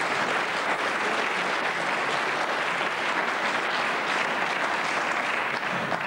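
A studio audience claps at a French comedy variety show, a steady, dense wash of applause that holds at the same level for about six seconds with no voices over it.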